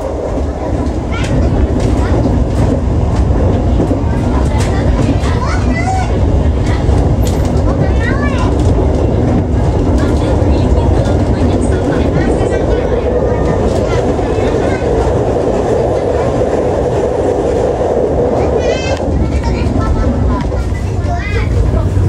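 Steady rumble and rattle of the Joglosemarkerto passenger train rolling along the tracks toward Cilacap, continuous and loud, with faint voices and occasional squeaks in the background.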